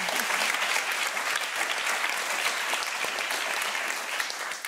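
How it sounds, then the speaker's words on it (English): A panel audience applauds steadily, a dense, even wash of many hands clapping that holds at moderate loudness and tapers slightly at the end. "A warm round of applause, please."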